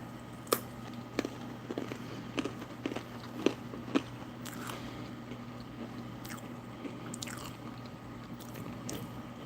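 Crackers dipped in squash from a Russian field ration are bitten and chewed close up, with a series of sharp crunchy bites at irregular intervals followed by softer, quieter chewing over faint background hum.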